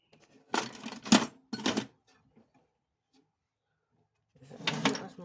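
A drawer slides open and items are rummaged through in a few short bursts of clatter, a pause of near silence, then another burst of shuffling and knocking close by.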